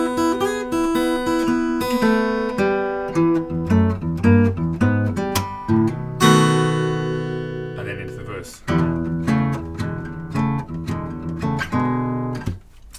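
Acoustic-style guitar playing the bluesy intro of a song with plucked notes and chord runs, a ringing sustained chord partway through, played alone and close.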